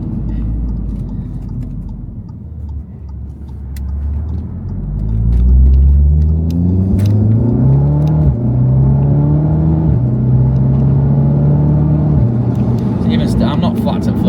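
Audi S3 8V tuned to around 400 horsepower with a custom valved exhaust, the engine rumbling and then revving hard as it accelerates, its pitch climbing through the gears loud and close from inside the car, with people talking over it.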